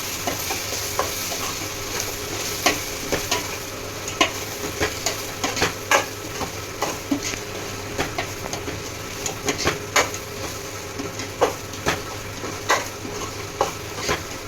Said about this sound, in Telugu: బిర్యానీ ఆకు, ఇంకా సౌదీ బిర్యానీ ఆకు అన్నాను కదా, అది వేసి బాగా వేయించాలి